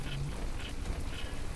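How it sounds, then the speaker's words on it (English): Nighttime rain in the video game From The Depths, a faint, steady hiss of falling drops continuing without a break. "So it's a nighttime rain."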